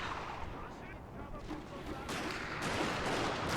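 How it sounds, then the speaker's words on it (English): Musket volleys crackle from massed line infantry in Shogun 2: Fall of the Samurai, a dense, continuous rattle of distant gunfire that grows louder and fuller partway through, with faint voices underneath. "Just volley upon volley incoming against these red bears."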